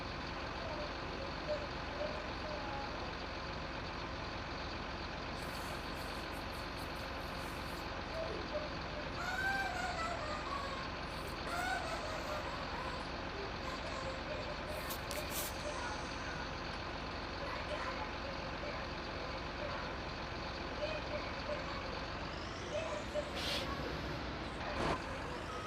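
A heavy truck hauling logging equipment drones steadily close by, its engine a constant low rumble with a rising whine near the end as revs build.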